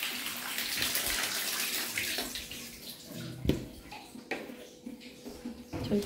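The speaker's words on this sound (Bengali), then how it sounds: "বাথরুমে জল ভরে গেছে," Water gushes steadily into a bathroom tub or bucket, a broad rushing flow that tapers as the tap is turned off, followed by a few soft knocks and clatters.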